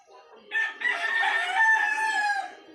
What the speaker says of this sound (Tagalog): Wow, yung manok.